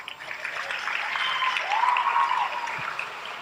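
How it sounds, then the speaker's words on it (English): Audience applause at a youth poetry slam event, a sustained wash of clapping that swells slightly midway and then eases, heard without speech on top. "Another round of applause."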